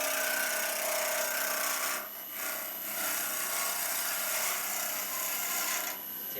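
A sharp lathe turning tool cuts into solid olive burl wood, producing a continuous close rasping, shearing hiss with brief dips as the cut eases, then resumes.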